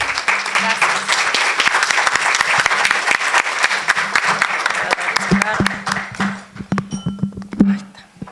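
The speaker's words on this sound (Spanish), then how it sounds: "Las recibimos con un fuerte aplauso." An audience at a talk on population ageing and human rights applauds to welcome the speakers, sustained full clapping that thins into scattered claps, with some voices underneath.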